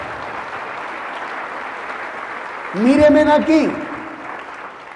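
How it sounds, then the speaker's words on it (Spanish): Congregation applause in a church service, a steady wash of clapping that runs throughout while someone speaks over it briefly partway through. "Fuertes aplausos a la palabra del Señor"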